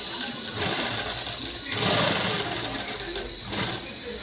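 A sewing machine stitches cloth for a nightdress, a loud, steady mechanical hum that surges and eases as it runs, close up, with a voice talking faintly underneath.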